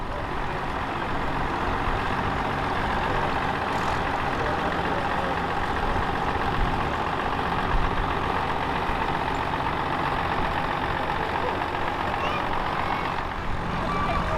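A 1959 International 660 diesel tractor runs steadily at an agricultural threshing show, its engine drone continuous and fairly loud throughout, with a faint background murmur.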